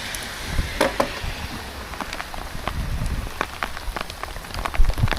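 Rain falls during a mountain bike ride at a bike park in a storm. A loud wash of drops is broken by sharp patters and close knocks from the bike and gear, with no talking.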